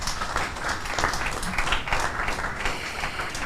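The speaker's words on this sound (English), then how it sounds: "You made it so far. You deserve an applause." Audience at the Minikino Film Week Bali International Short Film Festival applauding: dense, lively clapping from a crowd, steady and fairly close throughout.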